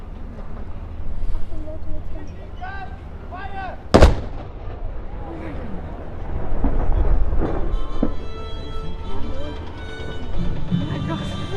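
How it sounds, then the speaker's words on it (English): Ceremonial cannon salute fired at Valletta, Malta, a single sharp, loud blast rolling into a long booming echo over harbour ambience, with voices and crowd noise around it. "a bit of cannon fire to end my video on Valletta"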